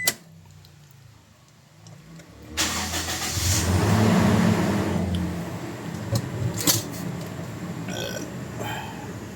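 A Toyota Innova engine cranks and catches, then settles into a loud, steady idle with a rough rumble; a few clicks and knocks sound near the end.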